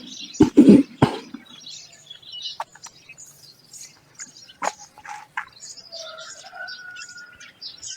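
A bird with a rusty brown upper body and dull black head calls outdoors, giving scattered sharp chirps and short whistled notes after a few loud thumps at the start, in quiet surroundings.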